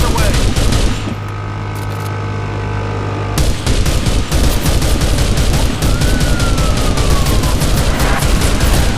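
Video game gunfire fired from a sports car: dense, continuous rapid shots over a loud engine and road roar, with a brief lull before the firing resumes and keeps going.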